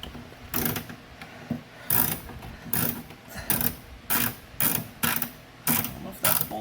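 A ratchet unscrewing 10 mm screws from the exterior door handle of a 1999 Toyota Camry, clicking in short bursts of rapid pawl ratcheting, about ten strokes separated by brief pauses, close up.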